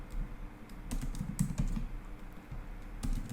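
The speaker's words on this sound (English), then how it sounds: "There is a typo. I'm just typing it again." Rapid keystrokes clatter on a computer keyboard in quick bursts and short runs, close and clear, with brief pauses between taps.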